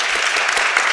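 Audience applause for two debaters at a debate on whether Christians should vote for Donald Trump, a steady wash of clapping lasting about a second with no voices.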